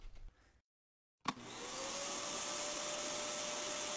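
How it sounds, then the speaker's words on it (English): A welding fume extractor about 7 centimetres across, set roughly twice that distance from the weld, kicks on with a sharp click and settles into a steady, loud airflow roar with no talking. "With the extraction positioned properly, the fume is all being taken away"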